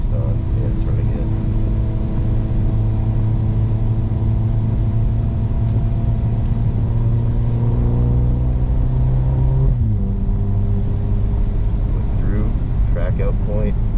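A Mercedes SL45 accelerates on the Harris Hill Road track, its engine note climbing steadily and loudly from inside the car before a gear change drops the pitch, then the revs build again.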